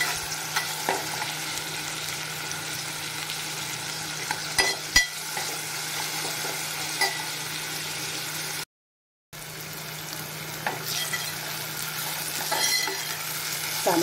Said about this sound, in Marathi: आता त्यामध्ये आपण टाकूया टॅमॅटो देखील आपल्याला तसाच चांगला गळेपर्यंत भाजून घ्यायचा आहे